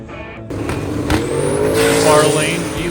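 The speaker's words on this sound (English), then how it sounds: "I think this will be the last run in that Corvette." Corvette making a drag racing run at a drag strip event, engine noise rising as the car launches and accelerates, loud and close, with a brief sharp burst near the start and crowd or announcer talk mixed in.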